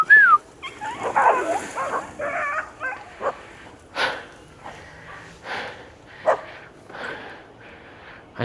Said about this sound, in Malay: Ada sekumpulan anjing.